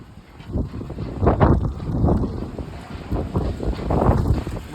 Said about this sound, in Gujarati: વાવાઝોડું જોઈએ ને ખતરનાક.